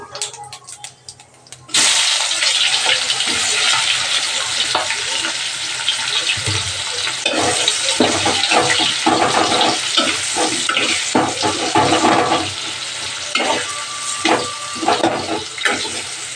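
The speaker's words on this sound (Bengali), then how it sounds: "তেলটা গরম হয়ে গেছে বন্ধুরা একটু জিরে দিয়ে দিলাম এবার আমি পেঁয়াজটা দিয়ে দেব" Onions hit hot oil already seasoned with cumin and sizzle vigorously after a quiet start, a busy close crackle with stirring knocks and fluctuating intensity, no voices over it.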